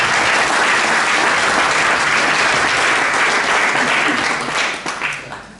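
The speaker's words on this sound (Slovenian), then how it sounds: "Pa en aplavz za prvo skupino." An audience at a village tourist society's anniversary and awards event in Pekre claps steadily for a children's folk dance group, a dense, even burst that trails off near the end.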